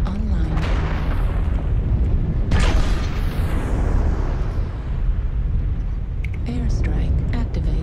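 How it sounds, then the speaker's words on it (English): Airstrike explosions in MechWarrior Online, several heavy booms with long rumbling, sweeping tails, loud and close, spread across the stretch amid continuous battle noise and some speech. "Airstrike activated."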